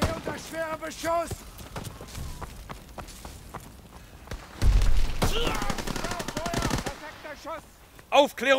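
Call of Duty WW2 battle gameplay brings rapid bursts of machine-gun and rifle fire, sometimes sparse and sometimes dense volleys, with voices talking over the combat throughout.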